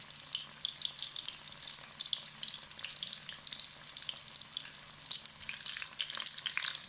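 Arbi (taro root) pieces frying and browning in a pan of oil, with a steady, dense sizzle throughout and occasional stirring, loud and continuous with no talking.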